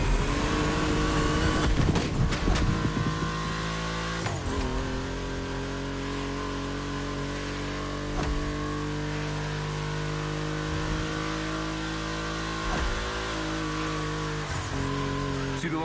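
Car engines in The Crew Motorfest, a steady sustained engine drone with a few sharp blips and rev changes early on, then an even hum throughout.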